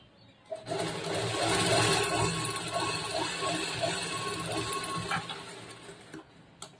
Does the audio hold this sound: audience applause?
no